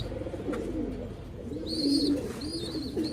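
Racing pigeons cooing at close range, low throaty rolling coos repeating over a quiet background, with a few higher chirps near the end.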